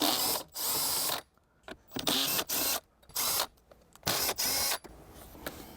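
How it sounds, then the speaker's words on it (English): A power tool whirs in repeated short bursts, starting and stopping several times close up, spinning out 10mm bolts on a Subaru BRZ or Toyota GR86. "You can use a wrench. We're gonna use a power tool."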